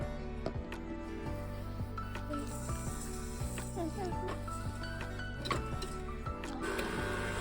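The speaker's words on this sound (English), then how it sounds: "while we have our oil and our sugar mixing" An electric mixer blends oil and sugar for a pumpkin bake, a steady whirring drone with rattling ticks, quiet and continuous.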